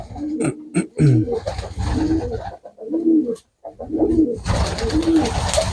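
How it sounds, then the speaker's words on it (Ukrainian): Pigeons coo in a repeated series of low, throaty calls as a male chases a female, each phrase rising and falling with short pauses between, close and clear over faint background noise. "бачите, голуб ганяє голубочку"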